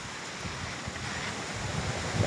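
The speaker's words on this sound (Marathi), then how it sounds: "सार्थक तर हा काय पुढे धबधबो" Ghonsari waterfall in Kankavli taluka, Sindhudurg district, in the Konkan forest: a steady, unbroken broadband rush of falling water, close and fairly loud, with no voices over it.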